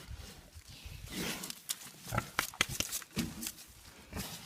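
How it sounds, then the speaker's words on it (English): Rough, aggressive pig grunts and snorts in irregular bursts, fairly close, some harsh and squealing. "Angry pig."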